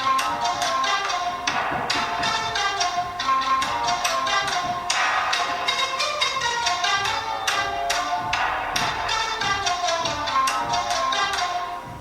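Music plays at full volume through the single bottom-mounted mono speaker of an Infinix Hot 12 Play phone, a busy beat with sharp percussive hits and bright tones, loud and continuous with no talk.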